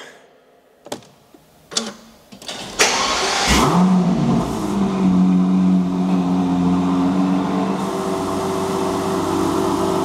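An Aston Martin V12 Speedster cranks over after a few clicks and catches, its V12 roaring up loudly close by, then settling into a steady, deep idle.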